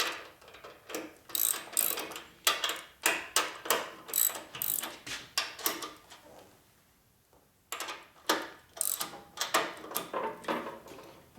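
A ratchet wrench tightens the fork bolts on a 2004 Harley twin cam touring motorcycle during a suspension rebuild, clicking in quick repeated bursts of close, crisp pawl ticks with a short pause midway before another run of strokes.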